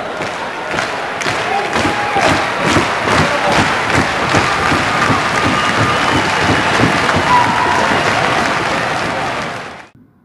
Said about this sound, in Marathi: केवढ्या टाळ्या पडल्या त्यांच्या एकाच वाक्याला